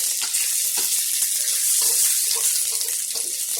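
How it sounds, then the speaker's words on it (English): Scallions, shallots and ginger sizzle in a hot pan while being stirred, a steady loud frying hiss with repeated scraping and clinking of a utensil throughout. "We're going to mix it around, get our pan coated."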